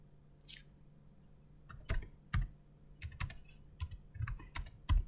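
Typing on a computer keyboard while writing HTML code: a quiet pause, then irregular close key clicks in short bursts, with no voice.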